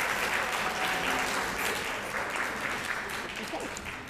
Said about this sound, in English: please stand and let us give you all a round of applause